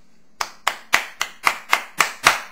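Steady, evenly spaced hand claps, eight sharp strikes close to the microphone, sounding alone with no talk, as applause after an original song performance.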